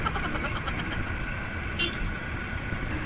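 Dense road traffic hums steadily at close range, with a brief car horn toot partway through amid the continuous engine and tire noise.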